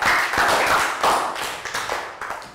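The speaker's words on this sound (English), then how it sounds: "Round of applause." Children clap together after an English lesson, a burst of bright, fairly loud hand claps with uneven rhythm lasting a couple of seconds and fading toward the end, with no talking over it.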